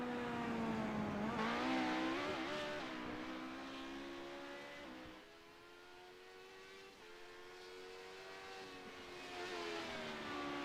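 LMP2 prototype race cars roar past on a circuit during a sports car race, engines revving and rising in pitch as they approach, then fading before another car swells in, loud and close.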